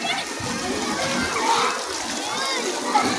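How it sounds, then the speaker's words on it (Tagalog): Water splashes continuously as children swim at a birthday gathering, a dense close splatter running under excited children's voices calling out. "langoy si Zeus dong"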